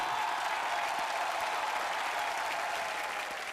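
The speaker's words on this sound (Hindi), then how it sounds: "अनु सर के लिए और ओम जी के लिए जोरदार तालियां हो जाए।" Loud, steady applause from a comedy show studio audience, a dense wash of clapping that continues unbroken throughout.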